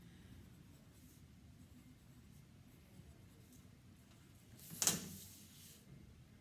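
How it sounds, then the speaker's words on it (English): A pen draws a single quick stroke across paper on a technical drawing board, a brief soft scratch in an otherwise quiet room. "I can draw another line underneath there."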